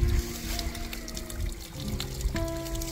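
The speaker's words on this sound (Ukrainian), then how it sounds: "Зі збірника вода граційно впадає у дерев'яне корито" Spring water pours from a concrete collecting basin capped with red sandstone slabs into a wooden trough, a steady close trickle and splash running throughout, with a soft low gurgle and faint background hum.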